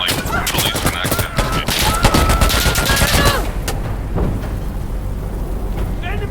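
Dense, rapid gunfire in the shooter game Insurgency Sandstorm during a co-op mission, with overlapping close bursts that fade into a rumbling background while players shout over the action.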